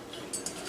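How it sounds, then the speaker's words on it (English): A spoon stirs chocolate chips in a bowl over a double boiler, giving a couple of faint, brief clinks against the bowl amid quiet background noise. "we're gonna give it a little stir"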